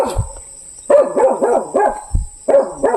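A dog barks in a rural village at night, several sharp barks in quick bursts with short gaps, fairly close, with a steady high insect hum behind.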